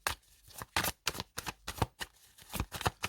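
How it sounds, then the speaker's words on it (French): Tarot cards being shuffled and cut by hand, close up, in a rapid run of about ten sharp riffling bursts with brief gaps between them. "je vais commencer par une coupe pour avoir une tendance de votre année"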